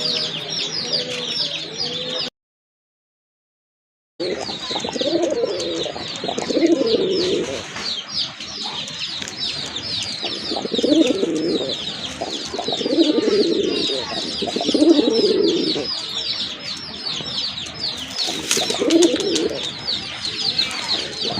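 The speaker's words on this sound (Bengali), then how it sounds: "আরেক জোড়া কবুতর অনেক বড় সাইজের, হোয়াইট কালারের ভিতরে এক জোড়া দেশি কবুতর" Pigeons cooing in a dovecote, the local birds among a large white pair, repeat low throaty coos at a steady rhythm under constant high chirping and rustle from other birds, with a brief silent gap early on.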